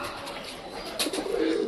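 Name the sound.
pigeons cooing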